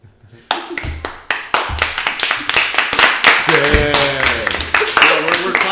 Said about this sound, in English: we're clapping at you